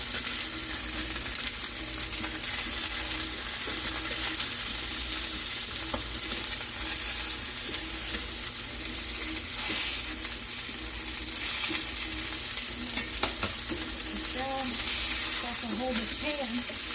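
Country style ribs sear in a hot pan with a loud, steady sizzle that fills the whole stretch, close up, with faint clinks of stirring near the end.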